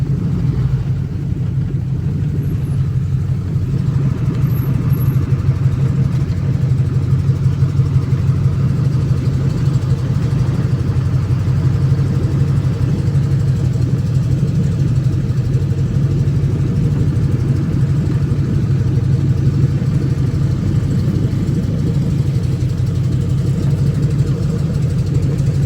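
A car engine idles steadily while the vehicle backs into a muffler shop, a constant close, loud, low rumble with no revving and nobody talking.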